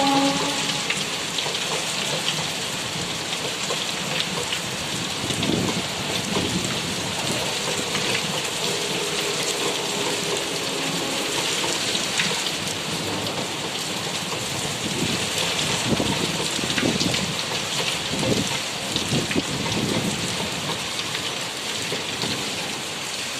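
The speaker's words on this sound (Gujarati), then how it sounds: "જો કરા પણ બહુ કરા પડ્યા છે" Steady heavy rain with hail pours down throughout, a dense hiss and scattered harder pattering of hailstones striking rooftops and surfaces; no voices.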